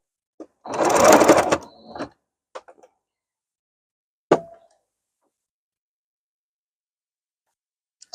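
Sewing machine stitching a patched sweatshirt hoodie near the armpit: a short burst of fast, close stitching, a few stuttering stops, then a sharp isolated snap as the needle hits a pin and breaks, followed by faint clicks and silence.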